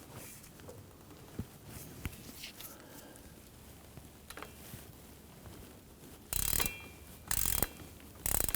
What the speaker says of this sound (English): I'm going to torque down our forward flange bolts or our forward bearing cap bolts